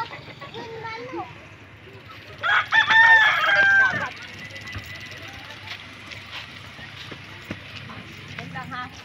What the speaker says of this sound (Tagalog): Manok! Yun, manok!